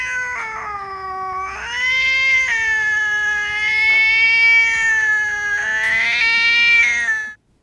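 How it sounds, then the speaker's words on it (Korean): Cat letting out a long, sharp, rising-and-falling shriek of pain or fear, loud and close, with harsh harmonic wails held for several seconds before ending abruptly. "하악과 비슷하고 더 날카롭게 울부짖는 소리를 슈렉이라고 따로 분류하기도 하는데 역시 고양이가 고통스럽거나 매우 두려울 때 내는 소리입니다"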